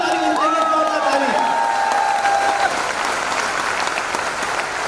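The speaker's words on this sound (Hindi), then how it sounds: "अब तक की सबसे जोरदार ताली होनी चाहिए, जोरदार ताली" An audience claps in loud, sustained applause, a dense, even patter with a few cheers mixed in.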